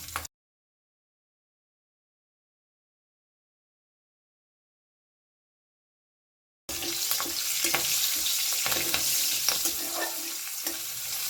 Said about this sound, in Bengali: দিয়ে দেব 1/2 চামচ মতন কালো জিরে, আর দিলেন 3টে চেরা কাঁচা লঙ্কা।